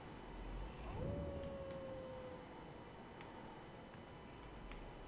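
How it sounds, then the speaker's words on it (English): A creature's drawn-out howl in the video game Elden Ring, a single rising then sustained wail at mid distance over quiet ambient game sound, with no talking. "And you probably hear that howling."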